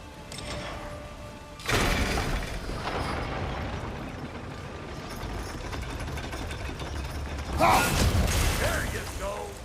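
A crank mechanism turns in God of War Ragnarok, a continuous creaking, grinding mechanical rumble with louder surges near the start and near the end, under game ambience.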